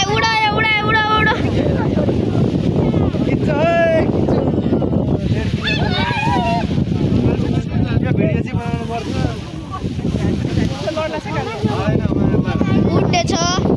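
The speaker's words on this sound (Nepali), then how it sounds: "हावा चलो, हावा चलो।" Wind gusts steadily across an open hillside at a paraglider launch, buffeting the microphone with a loud, continuous roar. Several people shout excitedly over it throughout.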